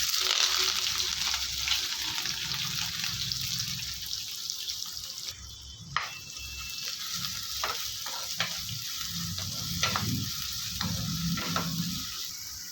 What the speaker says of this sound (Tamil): ரெண்டு மீடியம் சைஸ் வெங்காயத்தை பொடியை நறுக்கி வச்சுருக்கேன் அதோட கொஞ்சம் கருவேப்பிலையும் சேர்த்து வதக்கிடலாம்